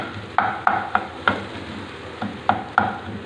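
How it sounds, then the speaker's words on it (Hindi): Eggs for khagina scrambling in oil in a pan: a soft sizzle underlies about seven sharp, close spoon knocks and scrapes against the pan, spaced unevenly over a few seconds. "अंडे को अच्छी तरह से पका लें ताकि इसका कच्चापन ख़त्म हो जाए। साथ साथ चम्मच हिलाते रहें।"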